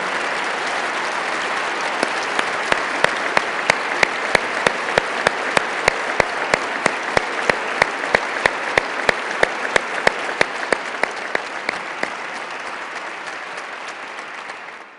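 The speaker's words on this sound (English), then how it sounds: "Let's stop at this moment and just give them a round of applause" A large audience at an Ohio governor's swearing-in ceremony applauds steadily, a dense wash of clapping with a repeated sharp rhythmic clap standing out, fading at the end.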